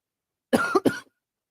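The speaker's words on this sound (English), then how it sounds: "with this freaking cough I have" A short, close cough in two quick bursts, followed by silence.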